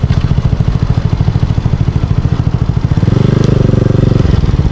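A motorcycle engine runs close and loud as the clutch is eased out of first gear, a throbbing idle rising to a stronger, revving drone partway through as the bike pulls away.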